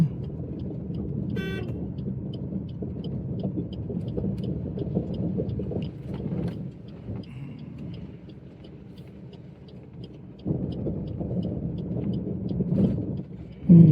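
A car drives in second gear through a narrow, muddy village lane, giving a steady, close low engine rumble that dips briefly and then swells again near the end.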